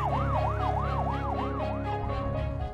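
An ambulance siren in Quezon Province, Philippines wails in fast, regular rising and falling sweeps, loud and close, over a low vehicle rumble, with no talk.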